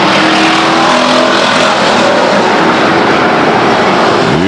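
Race cars roar around the Stockton 99 Speedway oval, a loud, dense wash of engine noise filling the whole stretch with a rising pass toward the end, no voices over it.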